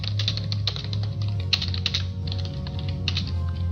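Quick bursts of typing on a computer keyboard, light clicky keystrokes in uneven runs and pauses over a low steady hum, close and fairly quiet with no voices.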